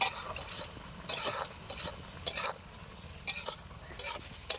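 Pea leaf greens being stirred in a frying pan, with several separate bursts of scraping and rustling from the spatula against the pan between quieter gaps and a soft sizzle underneath.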